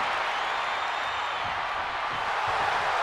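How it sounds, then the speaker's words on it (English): A stadium crowd in the WWE 2K24 wrestling game roars and cheers steadily and loudly throughout, a dense unbroken wall of noise. "The sound of this crowd is deafening, and he's asking for more."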